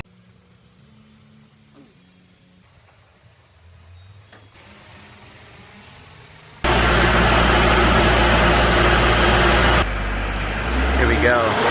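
A Mitsubishi Delica van sits with its rear wheels on a dyno. After a quiet stretch of low engine idle, its motor suddenly bursts into a loud, sustained full-throttle roar that holds for several seconds.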